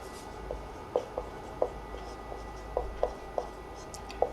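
Pen writing on paper during a maths lesson, with a steady series of light scratchy strokes and taps that stay close and quiet over a soft background hiss.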